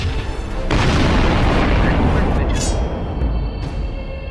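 Flak cannon fire and explosions in the space strategy game Sunrider: The Mask of Arcadius, a loud, dense continuous roar of booming blasts lasting several seconds with little break.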